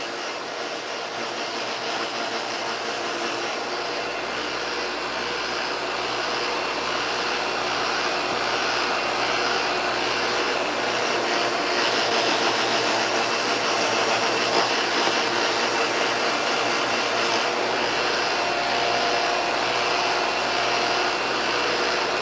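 A Hoover Power Scrub vacuum cleaner with its turbo brush runs in one steady, loud, close whine. It holds a constant roar throughout with no pauses and no talking.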